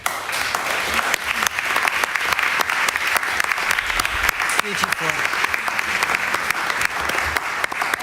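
A live audience at a European literature night applauds after a Ukrainian poetry reading, dense steady clapping filling the room throughout, with a voice briefly speaking over it.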